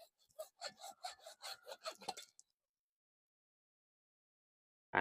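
A handsaw cuts through a water pipe during a home pipe repair with about a dozen quick, rasping back-and-forth strokes, close and clear. It stops after two seconds, leaving silence until a short knock at the end.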